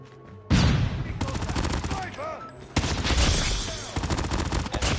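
Rapid automatic fire from an MX9 gun in a video game, dense loud bursts that fill most of the stretch with a brief pause between volleys, a voice talking underneath.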